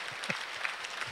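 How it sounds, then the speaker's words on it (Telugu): School audience clapping briefly in a hall, a soft, scattered burst of hands at a distance. "ఆయన అన్నారు, మీరు చప్పట్లు కొట్టాలి."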